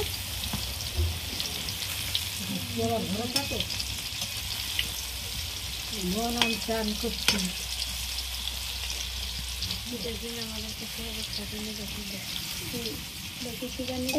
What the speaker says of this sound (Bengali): তো পকোড়াগুলো আমার এক পিসটা ভাজা হয়ে গেছে, তো আর এক পিসটা আমি উল্টে নেব।